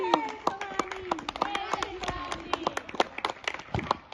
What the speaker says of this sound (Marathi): टाळ्या टाळ्या जय शिवाजी